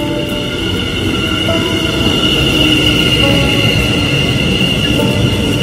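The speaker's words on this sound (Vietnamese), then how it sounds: "Đó, xe lửa đang đến đây nè." A train pulls into Hồ Rình railway station, a loud, steady rolling rumble with sustained high wheel squeal running throughout and no voices.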